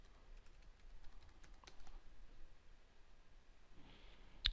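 Faint, quiet tapping of keys on a computer keyboard as a word is typed in at a desk, a light irregular patter with a single sharper click at the end.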